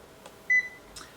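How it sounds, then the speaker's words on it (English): A single short electronic beep from a pet talking button's record button sounds in quiet surroundings, with faint clicks just before and after. "When you hear a single beep, record a message."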